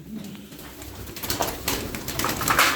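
Pigeons coo softly in the background among light rustling and scattered clicks at a rooftop loft, with no talking over them.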